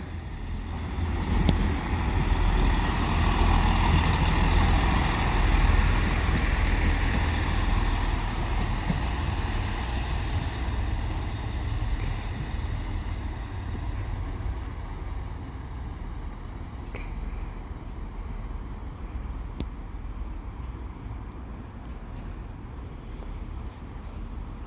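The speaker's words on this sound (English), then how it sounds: "Arriving in is going to be the 10:45 Chiltern Railway service to Aylesbury from London Marylebone with the 2-car Class 165" Chiltern Railways two-car Class 165 diesel unit arriving at High Wycombe station, a steady low rumble that is loudest early and slowly fades as the train comes to a stop, with no talk.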